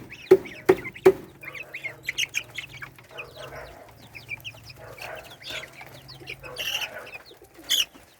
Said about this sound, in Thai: ไก่ลูกดำเลย